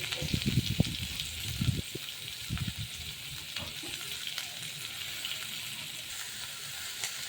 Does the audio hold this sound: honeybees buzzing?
no